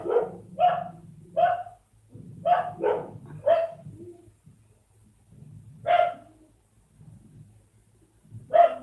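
Dogs bark in short bursts at a home, several sharp barks spaced irregularly with quiet gaps between, moderately near, with a faint bird call in the background.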